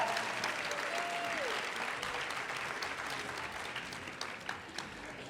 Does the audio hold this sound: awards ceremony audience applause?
yes